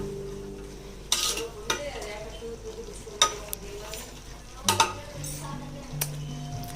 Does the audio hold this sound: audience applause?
no